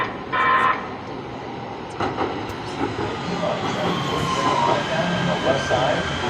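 A metro train pulls into a station near Santa Monica with rumbling wheels, brief metallic squeals and hissing, moderately loud and steady, with faint voices in the background.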